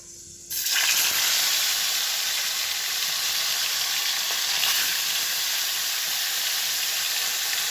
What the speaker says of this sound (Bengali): তারপরে এখানে চলে এসেছি গ্যাসেতে মাছগুলো ভেজে নিই।